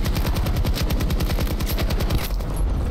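Sniper fire in Battlefield, heard as a dense, loud, rapid stream of gunshots that runs the whole time with no talking.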